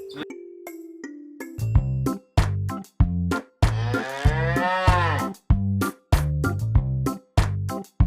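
A cow moos loudly over and over in short, evenly spaced bursts, with one longer drawn-out moo in the middle.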